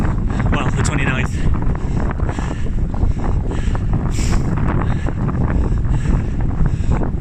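Strong March wind buffets the microphone along a rural road-race circuit near Wistow, a loud continuous low roar with gusty rumble throughout, steady and close.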